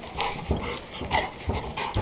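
A Labrador retriever whimpers softly and repeatedly indoors, close by, with light shuffling and movement noises between the whines.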